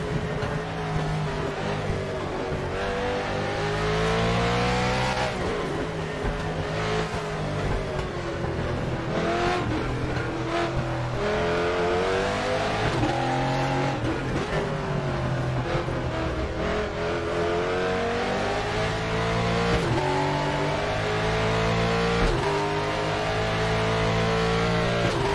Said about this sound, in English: This guy's like in a Formula One or something, he's just racing away.